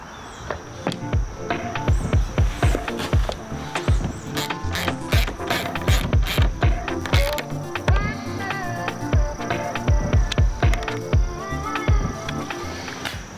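Ratchet tightening four 1/4-inch bolts, 3.5 inches long, to mount the seat on a wooden go-kart, heard as repeated sharp clicking bursts in a steady rhythm, close and fairly loud with no talking.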